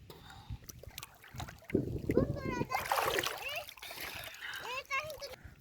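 A boy swims and splashes in the shallows along the bank of the Dhaleshwari river in Manikganj, with nearby water splashes and sloshes mixed under voices talking.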